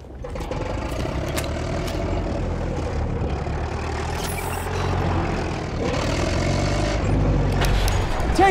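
In the video game Battlefield 1, a tank engine rumbles low and heavy with shifting revs and mechanical clanks, holding steady and close for several seconds amid the din of battle.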